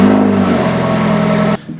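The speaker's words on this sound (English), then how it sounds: "I'm going to start the car up and just run the fan, just to double check everything" A BMW F30 328i engine running steadily close by, a smooth mid-pitched hum with a faint rev lift, cutting off abruptly near the end.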